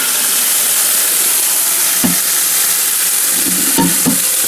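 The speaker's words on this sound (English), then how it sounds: "So now you're gonna rinse your corn." Dry corn being rinsed in water while making dry corn soup with shrimp: a steady, close wash of watery hiss runs throughout, with a few soft knocks and clinks near the end.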